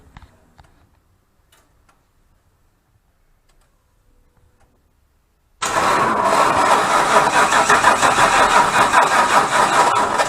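A 1958 Ford F100 pickup catches after years of sitting: near silence with faint ticks, then the engine fires abruptly and holds a loud, steady, rough idle close by.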